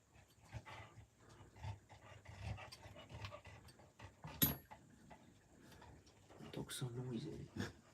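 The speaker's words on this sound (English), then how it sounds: "Dog's so noisy." A dog pants in quick soft breaths close to the microphone, with occasional snuffles and a sharp clink, while people talk quietly in the background.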